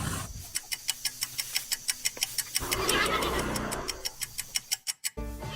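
A horse neighs in a farm animal guessing game, a whinny swelling in the middle, framed by a steady run of regular clock-like ticks before and after.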